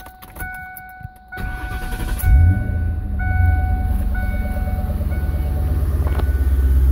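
A 1971 Cadillac engine cranks and fires after a short pause, then settles into a loud, steady, rumbling idle close by, with a brief click and quiet rattle beforehand.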